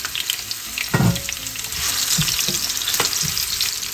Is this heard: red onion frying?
yes